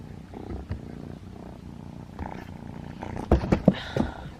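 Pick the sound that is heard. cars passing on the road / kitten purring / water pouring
kitten purring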